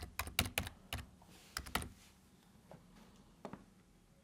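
Bursts of typing on a computer keyboard into a search field, quick clustered keystrokes and then a few isolated taps, close and quiet.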